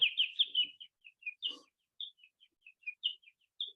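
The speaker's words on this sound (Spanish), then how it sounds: "Y ahí está el sonido del pájaro" Recorded birdsong made of short, high chirps and tweets in quick clusters, then spaced single notes with gaps between them, clear and fairly near against a silent background.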